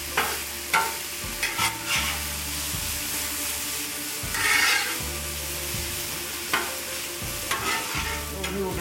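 Hibachi-style noodles frying and being stirred on a Blackstone griddle, a steady close sizzle broken by repeated scraping and tossing strokes, with no talking.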